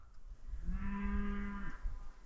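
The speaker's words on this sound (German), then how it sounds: "nur eine Kuh antwortet" A single cow moos once, a loud drawn-out low call of about a second, close by against a rumbly outdoor background.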